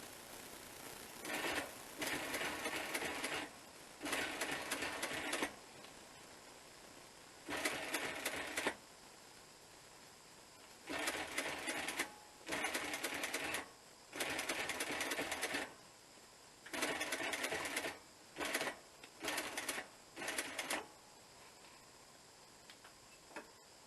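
A sewing machine stitches a bushcraft working vest in repeated bursts of fast, even whirring, each lasting a second or two with short quiet gaps between, close and clear with no talking.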